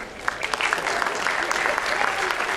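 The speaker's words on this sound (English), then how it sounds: "so that deserves an extra round of applause" Audience at a dance championship breaks into sustained applause, a dense patter of clapping that swells after a moment and carries on steadily to the end.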